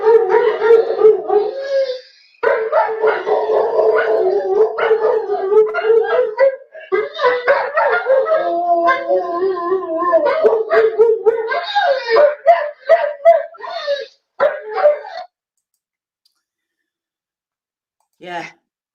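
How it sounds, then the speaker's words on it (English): A dog howls and cries in long wailing, moaning tones that rise and fall almost continuously for about fifteen seconds, loud and close, followed by near silence and one brief final whimper. "That howling, the dog's crying, it's just too much to hear, you know."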